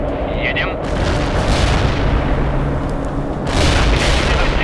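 Artillery fire in World in Conflict, a real-time strategy game: heavy, continuous booming rumble with a sharp burst near the start and a louder blast late, dense low-end roar throughout.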